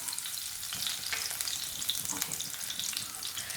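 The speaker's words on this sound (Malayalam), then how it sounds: "ഇതിലേക്കൊരു 3-4 അല്ലി വെളുത്തുള്ളി ചതച്ചത് ചേർക്കാം. ഇതൊന്ന് ഇളക്കി കൊടുക്കാട്ടെ" Crushed garlic fries in hot oil in a pan while being stirred, giving a steady, close sizzle with scraping spoon strokes throughout.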